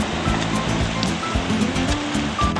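Ocean surf at Baja's Magdalena Bay keeps up a steady roar of breaking waves, loud and continuous, with no talking.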